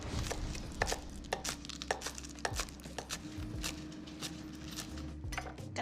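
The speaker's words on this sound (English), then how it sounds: "I'm gonna chop some scallions" Knife chopping scallions on a cutting board for chicken wings, a fast run of sharp, close taps repeating steadily through a low background hum.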